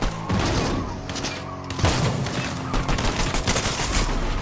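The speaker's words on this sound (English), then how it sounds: "Oh, they're shooting at us." Rapid gunfire in the video game Fortnite, a dense burst of shots and booms that stays loud and close with no talk over it.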